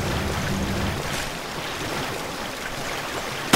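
Flood water sloshes and rushes through a flooding ship in Resident Evil Revelations, a loud, continuous watery wash with no clear breaks that carries on steadily throughout.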